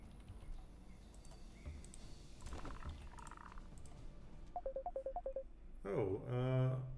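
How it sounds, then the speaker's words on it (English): An incoming phone call on a telephone sounds as a short run of electronic beeps partway through, then a louder buzzing tone near the end, over quiet background sound from an Age of Wonders 4 session. "I'm getting a phone call, and I will close it."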